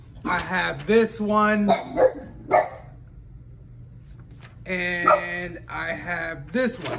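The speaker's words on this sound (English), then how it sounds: "That's my dog barking for no reason at all." A dog barks in short bursts in the background while someone talks about cleaning a clogged sublimation printer's print head, the barking partly under her voice.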